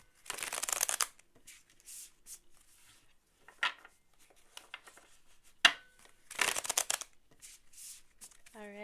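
Tarot cards are shuffled in several quick riffling bursts with soft rustles and pauses between, close by and without talk.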